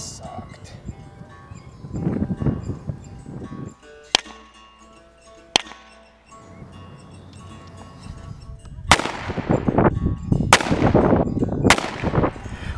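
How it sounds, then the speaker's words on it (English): Several sharp, loud shots from a Beretta 92FS pistol fired at targets and swinging steel, spread irregularly with clanging metallic ring and echo, while a person speaks at times between them. "I'm just going to empty out the magazine, probably 3 on target, and then I'll put the rest on the swingers"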